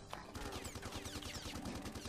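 Rapid automatic gunfire from the sci-fi video game Xenowerk, a dense rattling burst of repeated shots running steadily throughout at moderate level, with no talk over it.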